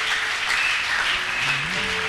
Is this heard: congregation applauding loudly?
yes